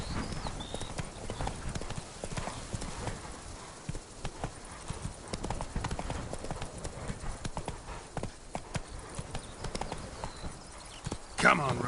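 Geralt's horse Roach in The Witcher 3: Wild Hunt trots along, hooves clip-clopping in a steady, fairly quiet rhythm over low game ambience, with faint voices now and then and a sharper knock near the end.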